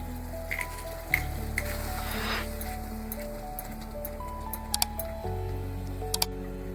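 Methi matar malai gravy sautéing in a pan, a steady low sizzle running throughout with a few soft stirring scrapes and clinks, close and moderately loud, no talking.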